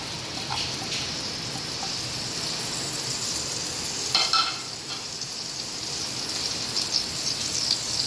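Mustard seeds, dried red chillies, curry leaves, turmeric and asafoetida powder tempering in hot oil, a steady close sizzle and crackle with a few brief louder pops, heard alone without talk.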